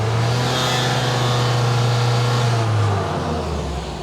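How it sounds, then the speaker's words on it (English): Saab 9-3 engine revved up to around 3,500 rpm during diagnosis of misfire faults, a loud close steady engine drone with a low hum that eases slightly near the end. "Yeah, I'm gonna rev it."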